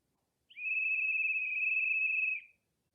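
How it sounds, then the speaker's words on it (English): A single sustained high whistle blast from a train guard, steady for about two seconds, clean and isolated against silence. "the guard blew his whistle"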